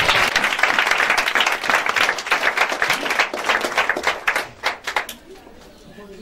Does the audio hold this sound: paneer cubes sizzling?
no